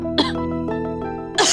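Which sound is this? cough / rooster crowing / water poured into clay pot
cough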